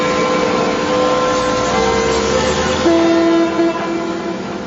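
A London Underground train on the line to High Barnet rumbles steadily close by, with a sustained horn-like tone sounding briefly near the end of the run.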